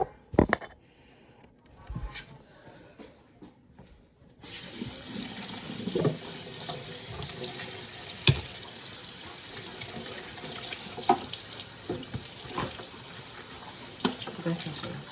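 A kitchen tap runs steadily into a sink while something is washed under it, a continuous close water rush with occasional clinks and splashes and a voice speaking briefly.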